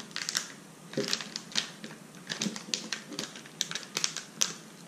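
A zipper bag is pulled open in a series of short crinkly tugs and clicks, irregular and close by, with no talking.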